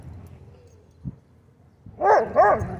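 Dogs at a dog park bark twice in quick succession, loud and close, after a quieter stretch of low background noise and a faint thump.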